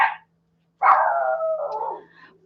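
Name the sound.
dog barking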